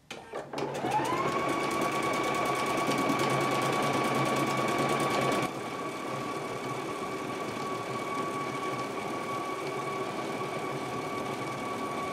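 A Husqvarna Viking Epic 980Q sewing machine runs alone in a steady, close-up mechanical whir with a high motor whine, dropping to a slightly quieter, lower pace about halfway through.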